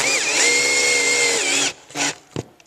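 A power drill drives drywall anchors into a wall during a sound bar mounting: a loud, steady close-up whine lasting under two seconds, then two brief bursts as the trigger is pulsed.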